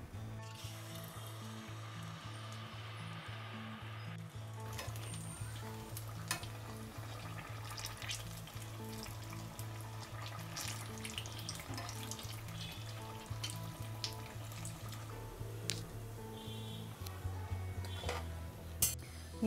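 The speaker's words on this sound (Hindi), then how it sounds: "अभी हम इसे इस बनाना को बैटर में डिप करके डालेंगे" Batter-dipped banana fritters frying in hot oil, a steady close sizzle and bubbling that runs the whole time, with occasional clinks and scraping of a utensil in the pan and a faint low hum beneath.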